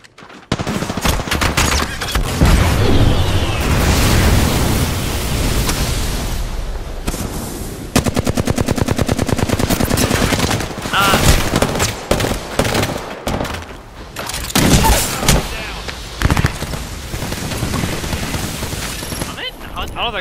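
Sustained automatic gunfire in Apex Legends, long loud volleys of rapid shots with brief pauses, mixed with game effects and a player talking throughout.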